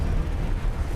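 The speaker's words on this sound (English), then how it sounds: "that explosion's gonna go off" A rumbling explosion in the space game X4: Foundations, a sustained low, dense roar with no sharp onset that fills the whole second at steady loudness.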